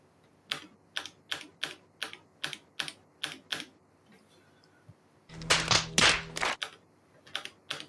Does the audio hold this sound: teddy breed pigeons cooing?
no